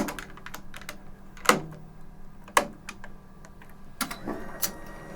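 A racquet stringing machine tensions and clamps string while an Ektelon racquet is strung. A handful of sharp, close clicks and clacks land at irregular intervals over a low background hum, with no talking.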